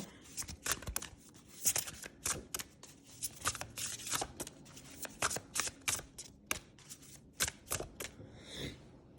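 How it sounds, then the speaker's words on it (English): A deck of oracle cards is shuffled by hand, a rapid run of crisp riffles and slaps that is close up and busy, with short gaps between bursts. "So let's get some oracle cards"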